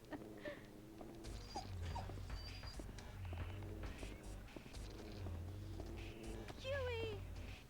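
Dog whimpering in the survival horror game Haunting Ground on PS2, with whiny yelps and a rising cry near the end over steady game music and clopping footsteps, with a person talking throughout.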